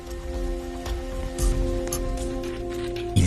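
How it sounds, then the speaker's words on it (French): Torrential rain pours outside a dilapidated building, a steady dense hiss of drops with a low rumble underneath, constant and fairly close, with a brief heavier surge partway through and no speech. "Une pluie torrentielle à l'extérieur."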